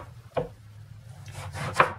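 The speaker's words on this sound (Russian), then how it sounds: "Нарезаем их на колечки примерно по 2-3 сантиметра." Two sharp knife cuts through eggplant, slicing rings on a board, one early and a louder one near the end, with a low hum underneath.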